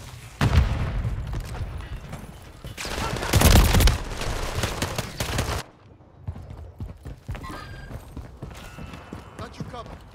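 Gunfire in the video game Call of Duty, with rapid automatic bursts and heavy booms crowding the first half, then sparser distant shots and game chatter after a brief lull.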